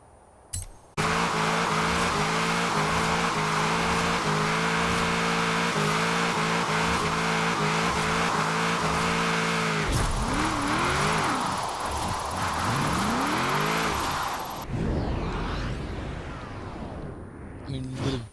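A tuned 1,000-horsepower Pontiac Firebird in Forza Horizon 4 roars at high revs with loud, close engine drone, then shifts through rising and falling revs with tire squeal before the sound thins out near the end.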